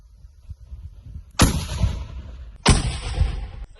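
Two sharp, loud blasts of a homemade bomb set off at a test range, each a sudden crack followed by a rolling rumble that decays over about a second, the second blast roughly 1.3 seconds after the first.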